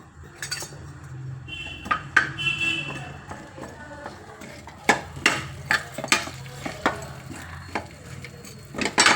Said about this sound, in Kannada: ಒಂದು 2 ಸ್ಪೂನ್ ಎಣ್ಣೆ ಹಾಕ್ಕೊಂಡು ಎಲ್ಲ ಹುರ್ಕೊಳ್ಳೋಣ